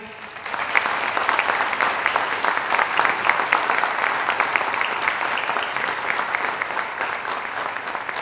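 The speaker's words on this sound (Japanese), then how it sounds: "皆様拍手でお迎えください" A large crowd applauds steadily at a boxing fight-announcement press conference in Japan, dense clapping rising within the first second and holding at a full, even level throughout.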